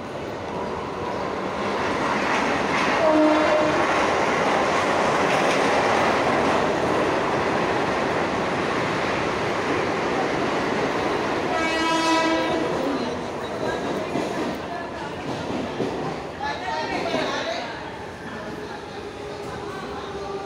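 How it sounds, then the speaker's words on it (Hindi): A train pulls into a busy station in Mumbai with a heavy rumble and screeching wheels. Horn-like tones sound partway through and the rumble fades toward the end, with crowd noise and voices around. "ट्रेन आ गई, जल्दी जल्दी चलें।"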